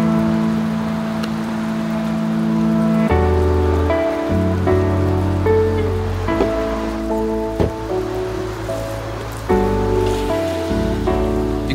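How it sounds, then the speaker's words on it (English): Steady rain falls outdoors, a continuous hiss of drops on surfaces with no voices, heard during a walk testing 3D-printed open-top shoes. "Oh, while we are testing them, it started to rain."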